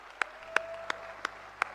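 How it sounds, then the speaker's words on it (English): At a youth conference session, the audience applauds the event team as five sharp, evenly spaced claps, roughly one every third of a second, ring out over a faint steady tone. "we also would like to just give another round of applause to the team that executed well"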